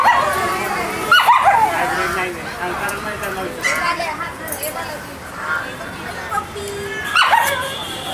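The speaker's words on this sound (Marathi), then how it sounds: "आहे काय तो डॉग" A hybrid dog barks in short yips and whimpers close by, in repeated bursts, while people talk over it.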